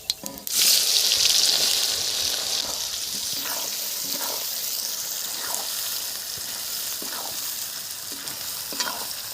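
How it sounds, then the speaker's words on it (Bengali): Onions hitting hot oil tempered with cardamom, cloves, cinnamon, a dried chilli and cumin, a loud sudden burst of sizzling that settles into steady frying, punctuated by regular scraping stirs. "এখন আমি পেঁয়াজটা ভালো করে ভেজে নেব।"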